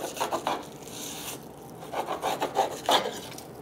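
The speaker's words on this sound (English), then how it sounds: "I'm gonna stick my knife into the end of the tail until I hit that skin and then just slide my knife up the rest of the fillet" A knife slides along a walleye fillet to strip off the skin, giving soft, close rasping strokes in two bursts with a short pause between, no talking.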